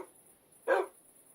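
A single short bark from a Minecraft dog, a tamed wolf, fairly quiet against a faint steady background hiss.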